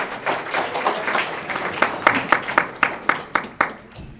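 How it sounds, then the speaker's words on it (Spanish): An audience at a university panel discussion on mining claps in a modest round of applause, with individual sharp claps standing out rhythmically, moderately near, fading at the end. "recibamos con un cálido aplauso a la doctora Cintia Sambor"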